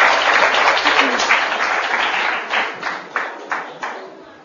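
Audience applause greets an artist invited onto the stage at a Turkish folk music program, a steady wash of many clapping hands that gradually thins into scattered louder claps toward the end.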